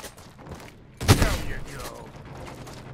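Gunfire in the sci-fi shooter Off Planet, a sudden loud burst at about one second that tails off into mechanical clatter and ricochet-like sweeps, over a low steady game-ambience bed.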